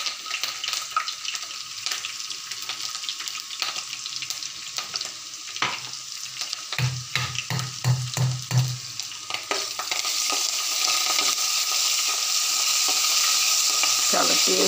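Curry leaves sizzle in hot oil while making tomato chutney: a steady frying hiss with stirring clicks and scrapes, then a louder, denser sizzle near the end. No one speaks.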